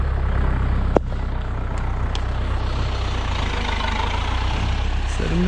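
Zetor 7745 tractor engine running steadily during potato planting on a farm, a loud continuous low diesel drone with one sharp clank early on, close to the microphone.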